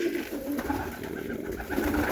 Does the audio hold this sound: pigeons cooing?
yes